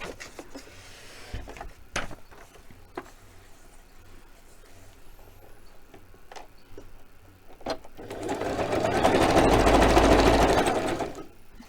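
A sewing machine stitches a zigzag with a rapid, close whirring hum that swells for a few seconds near the end, after quieter handling clicks and taps.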